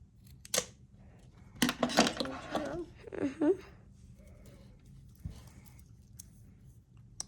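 Scissors snip the string of a handmade summer bracelet, several sharp close clicks in a quick cluster, with people talking around them in a quiet room.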